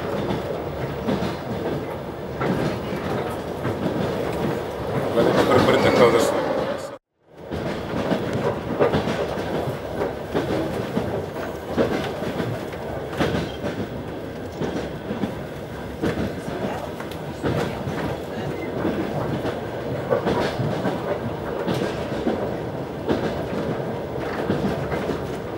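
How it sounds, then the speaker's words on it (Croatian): A Trans-Siberian Railway passenger train clatters along the tracks in Russia's Far East, with a steady rumble and rhythmic clickety-clack throughout and a momentary dropout early on. "Treći dan putovanja Transsibirskom prugom."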